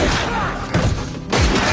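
Gunfire from a pistol in a Korean undercover-police action film about a drug gang: a loud burst of shots and heavy impacts in three clustered bursts, close and harsh, with no talk.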